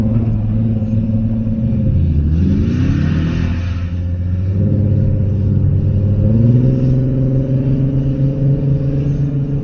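A Toyota Tundra TRD Pro pickup truck engine revs loudly and close by, its deep rumbling tone climbing and falling through a sustained rev with a steady low drone before and after.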